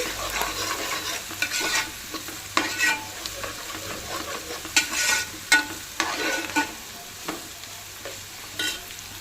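Ginger garlic paste frying in hot oil for Telangana-style boti curry, a steady crackling sizzle punctuated by repeated scraping stirs, close and moderately loud with no talking.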